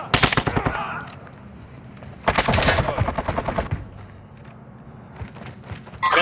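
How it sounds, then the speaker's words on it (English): Two close bursts of rapid automatic gunfire in Call of Duty Modern Warfare II DMZ crack out about two seconds apart, with quieter ambient rumble and scattered thuds between them. "I hear shots."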